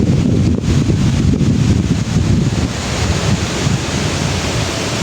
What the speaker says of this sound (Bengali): বাতাসের কারণে প্রচণ্ড গাছ নড়ছে, পাতা নড়ছে